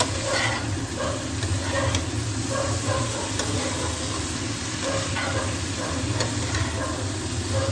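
Curry with dried fish, onion, garlic and green chilli paste sizzles steadily in a pan, a loud continuous frying hiss with occasional stirring scrapes.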